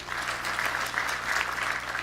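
Audience at a university graduation ceremony claps steadily for the president, a continuous, moderately distant patter of many hands filling the hall.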